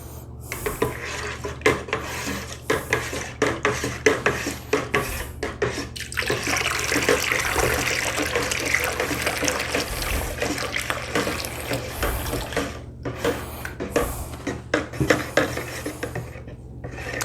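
Mead-making equipment being washed and sanitized at a sink, with running water splashing and hard utensils clattering and knocking against each other, close and continuous for a long stretch.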